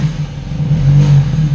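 A Nissan Z sports car engine revving steadily at close range, a loud sustained mid-pitched drone with a rattly muffler adding a buzzy edge, rising slightly in the middle before holding.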